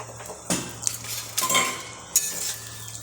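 Ghugni is stirred in a cooking pot, with a metal utensil scraping and clinking against the pot in short bursts over a low steady hum, close by and with no one talking.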